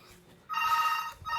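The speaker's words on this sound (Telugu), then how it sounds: "మనకి ఫోన్ మోగుతుంది" A phone rings indoors with a bright electronic tone in two close bursts, the first longer, loud and near against a quiet room.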